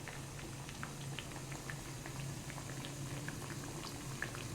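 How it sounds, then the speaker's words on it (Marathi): Alu wadi, rolled colocasia leaves, bubble and crackle in hot oil until golden, a soft steady frying fizz with scattered light pops, fairly quiet and even throughout. "गोल्डन कलर येईपर्यंत आपल्याला ते फ्राय करायचं आहे."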